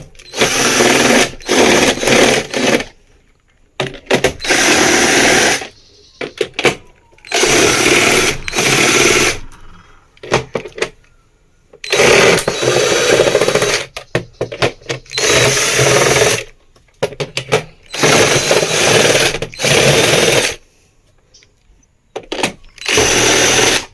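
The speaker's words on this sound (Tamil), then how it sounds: "இப்போ நம்ம கிரைண்டர் திருப்பி வச்சு இருக்கிற 6 ஸ்க்ரூ நம்ம கழட்டிக்கலாம்." A power screwdriver backs out six screws from an upturned Preethi wet grinder, with repeated loud whirring bursts of a few seconds each, separated by short silent gaps, close up.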